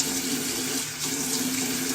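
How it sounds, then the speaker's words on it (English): Tap water runs steadily into a sink while eyelashes are rinsed, a close, constant splashing hiss with no talking. "So now I'm just going to rinse it off with water."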